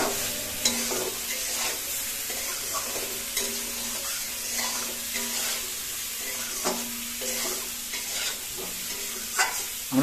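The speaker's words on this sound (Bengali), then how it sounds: "আমরা জাস্ট এখন এখানে খুব সুন্দর করে ফুলকপি এবং আলুগুলো কষিয়ে নেব," Cauliflower and potatoes stir-fried in oil in a pan, a steady close sizzle with repeated scraping strokes of a spatula, no one talking.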